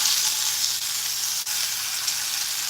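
Cottage fries potatoes sizzle steadily in an overly hot pan, a constant close crackle with no voices.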